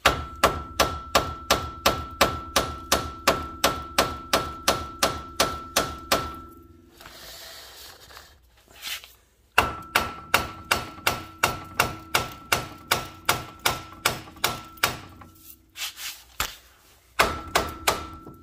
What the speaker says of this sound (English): just tap this right here with a hammer